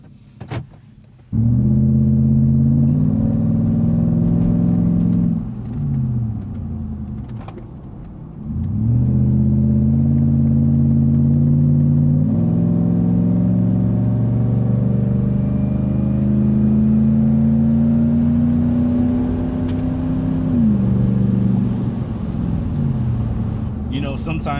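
A 20-year-old Lexus GX470 engine cranks and catches, then idles and revs in steady rising and falling swells, loud and close, with people talking over it.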